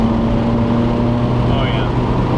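Mazdaspeed NC Miata with full bolt-ons, its engine droning steadily at close range with revs held through downshifts, a continuous loud rumble and no pause.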